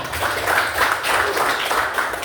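Children in a classroom clap for a classmate during a lesson, a steady, dense patter of hands that holds at an even loudness for a couple of seconds.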